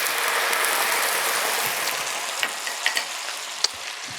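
Marsala wine poured into a hot pan, giving a loud broad sizzle that starts strong and eases off slightly, with a few small pops and clicks toward the end.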